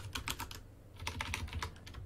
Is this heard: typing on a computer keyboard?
yes